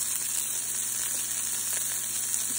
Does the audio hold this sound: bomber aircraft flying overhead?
no